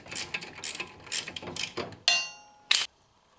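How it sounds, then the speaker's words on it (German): Ratchet backing out a brake caliper bolt on a BMW 1 Series E87 rear brake, a series of quick clicking ratchet strokes followed by a couple of sharp metallic clinks, close and alone. "Wenn sie lose sind, geht es mit der Ratsche"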